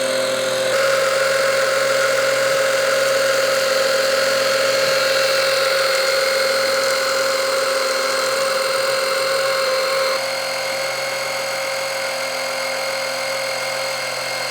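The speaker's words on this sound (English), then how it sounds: "That's what it took for the pump to transfer 1 liter of oil from that can into the other one." An Ultimate Speed 12V oil pump from Lidl transfers a liter of oil from one can into another, giving a steady droning motor hum that runs throughout and drops slightly near the end, with no speech.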